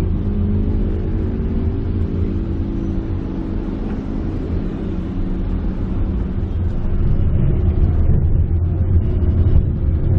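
Traffic of cars and motorbikes on a busy road, heard from inside the cabin of a Mitsubishi Xpander Cross fitted with NoiseKill NK60 sound damping: a muffled, steady low rumble of engines that swells slightly toward the end.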